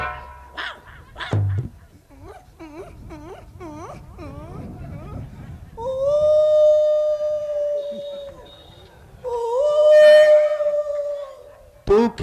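A voice imitates a howling dog, starting with short yelps and whimpers, then breaking into two long, loud wavering howls with a brief pause between them.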